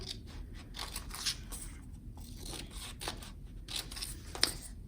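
Scissors cutting paper for an elementary lantern craft, giving soft, close, repeated snips and crisp rustles at an uneven pace, quiet and with no talking.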